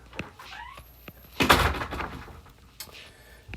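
A door closes with one dull thud downstairs inside a house, mid-distance, amid faint room noise and a few small knocks.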